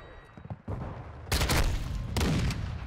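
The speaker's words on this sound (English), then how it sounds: "How's a shotgun gonna shoot that far?" Shotgun fire in Call of Duty: Modern Warfare 2, with two loud, close booming blasts about a second apart, each trailing into a rumbling decay over game background noise.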